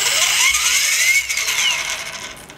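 A 3800KV RC helicopter motor with an issue spins up as the throttle rises, giving a loud, close, high-pitched electric whine that sweeps upward in pitch, then wavers and fades.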